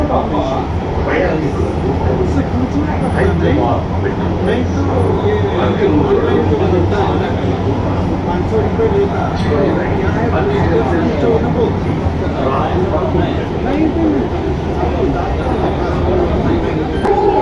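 A Hyderabad metro train runs steadily near a station, its continuous rumble and rolling rail noise filling the whole stretch, with a voice talking over it.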